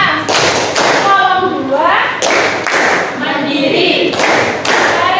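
Children perform the Tepuk P5 clapping chant in a classroom, with loud rhythmic claps and thumps in bursts under their spoken and chanted words.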